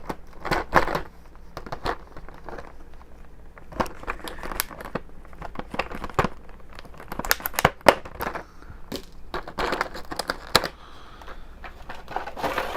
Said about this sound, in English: let's use the scissors here to cut out one of these blasting hands